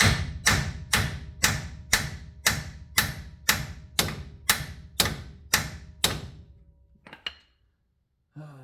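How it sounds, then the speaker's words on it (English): A hammer strikes metal on a 1985 Nissan 720 solid axle swap about a dozen times in a steady rhythm, each loud ringing blow decaying quickly, followed by a few lighter clinks and silence. "Hammer."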